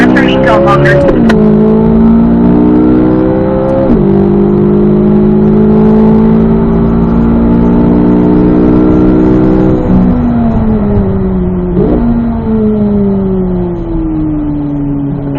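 Chevrolet Corvette Z06 engine on a race track, revving hard through repeated upshifts with rising tones broken by sharp gear changes, loud and close throughout.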